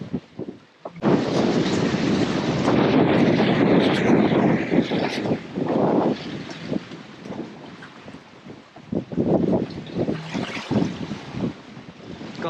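Water gurgles and rushes behind a sailboat moving at over 5 knots, a steady broad wash with wind buffeting the microphone and irregular swells of splashing, no voices.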